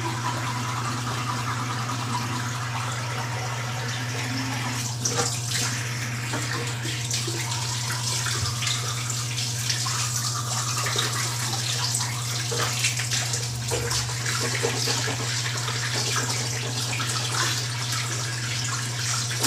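Tap water pours steadily into a bathtub, a continuous hissing splash lasting throughout with an electrical hum beneath and faint background sounds.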